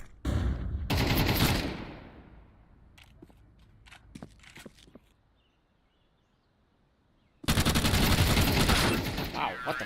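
Shooter video game gunfire: a loud burst of automatic fire opens, then scattered sharp single shots and clicks, a quiet stretch, and another heavy sustained burst of rapid fire at the end.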